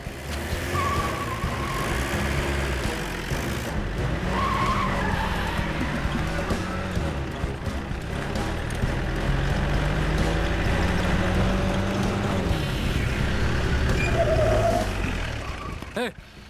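A car pulls away in a hurry, its tires skidding and engine revving under tense, overlapping voices, with the noise steady and close throughout before an abrupt cut at the end.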